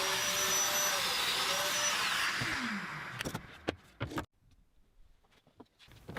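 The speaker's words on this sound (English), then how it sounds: "With the Domino on its narrowest setting and the plunge set to 15mm, we can put mortises into the face of the carcass." Festool Domino joiner plunging mortises into the face of a wooden carcass panel on its narrowest setting at 15mm depth: a loud, steady motor whine and cutting roar that winds down, followed by a few sharp clunks and handling knocks.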